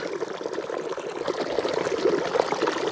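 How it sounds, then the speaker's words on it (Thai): Hot spring water among snowy mountains, flowing and splashing in a steady close pour with continuous bubbling texture. "นี่เป็นน้ำพุร้อนนะคะที่อยู่ท่ามกลางภูเขาหิมะนะคะ"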